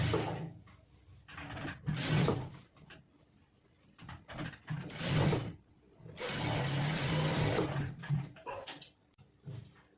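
A sewing machine runs a half-inch-wide seam along a blouse sleeve, in several uneven bursts of clattering mechanical stitching with short pauses between them, close and moderately loud.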